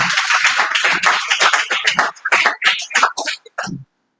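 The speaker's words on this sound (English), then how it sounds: "Please encourage her with a round of applause." Round of applause at a celebration event honoring a DG/CEO, greeting the woman called up to coordinate the cake cutting; dense, steady clapping from a nearby crowd that stops abruptly after about four seconds.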